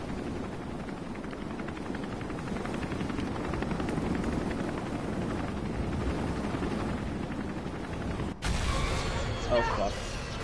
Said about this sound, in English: it's a helicopter in a video game